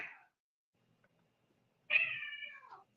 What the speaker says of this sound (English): Apparently, the cats here are having a bit of a disagreement.